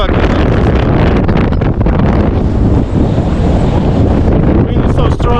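Fierce hurricane-force wind in a mountain snowstorm near a bivouac and hut, roaring loud and unbroken across the microphone with gusty buffeting throughout.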